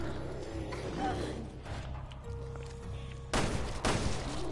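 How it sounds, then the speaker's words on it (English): Gunfire in the game Resident Evil Revelations 2 sounds over a dense, rumbling game ambience, with two loud, sharp bursts close together near the end. "Shoot him, Mary!"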